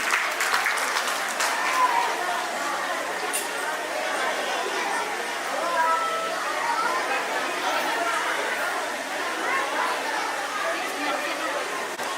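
Steady applause from the audience at a school annual function carries on at moderate level, blended with crowd chatter and talking throughout.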